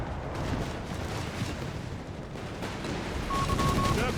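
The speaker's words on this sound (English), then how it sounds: "Vickers there firing to the German troops" A Vickers machine gun fires on German troops in the strategy game Company of Heroes 3, a steady rattling stream of shots mixed with distant battlefield rumble at moderate level, and a short tonal beep near the end.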